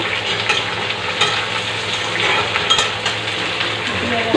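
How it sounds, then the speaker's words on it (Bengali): Pointed gourd and potatoes frying together in a pan, a dense, loud sizzle with faint clinks of a utensil and a louder knock at the very end. "এইবার দিয়ে নেব পটল, আলু একসঙ্গে ভেজে নেব"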